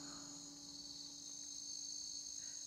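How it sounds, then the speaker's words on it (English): Crickets chirp in a steady, faint, continuous trill outdoors at a camp, a quiet unbroken insect drone with no voices. "Crickets."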